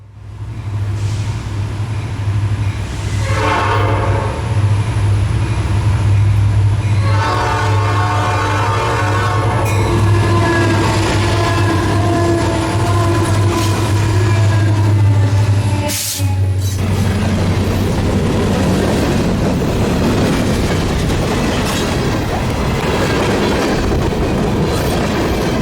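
A Reading and Northern freight train rolls past on its run near Hecla over Schuylkill Road, the horn sounding long and loud with a low rumble, then the horn cuts off and the wheels and cars carry on noisily.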